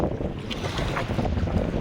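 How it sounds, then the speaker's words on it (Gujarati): Sea waves slosh and wash into a fishing boat under heavy wind noise, a loud, continuous rough rush of water and gusting air close to the microphone. "જો અંદર આવી જાય એવો મોજો આવે છે"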